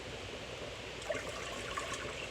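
Cold water streams steadily into a cooking pot at close range, a soft continuous pour with faint splashing.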